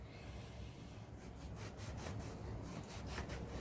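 Kitchen knife cutting during moussaka preparation, a run of quiet rhythmic slicing strokes against a board over a low background hum, with no talking.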